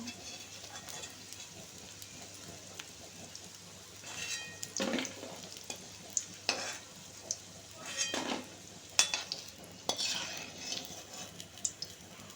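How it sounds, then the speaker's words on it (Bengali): Chicken pakora frying in hot oil gives a soft, steady sizzle. Sharper bursts of clatter recur every second or two as pieces are turned and lifted, fairly quiet overall. "পকোড়াগুলো ভাজা হয়ে গেছে, পুরো লাল লাল হয়ে গেছে।"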